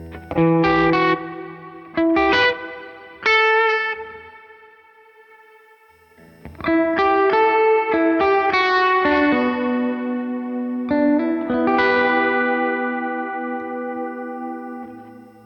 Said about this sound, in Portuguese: Vamos lá colocar bastante modulação para vocês sentirem como que ele fica.